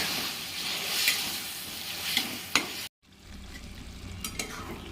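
Cabbage curry with reserved boiled water added, simmering and bubbling in a pan with soft sizzling and occasional stirring clatter, a brief silent gap midway, then quieter bubbling continues.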